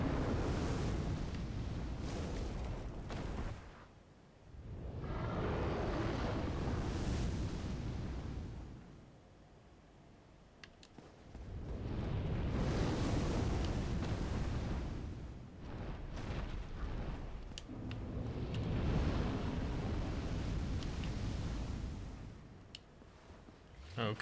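A large fire roaring in Dark Souls, heavy rumbling bursts of flame that swell and fade in several long waves, loud and close, with brief quieter gaps between surges.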